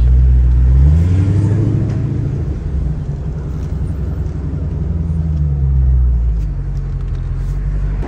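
A Dodge Challenger Hellcat's engine gives a deep, loud rumble from inside the moving car, swelling in two throaty surges of acceleration between steadier cruising drones.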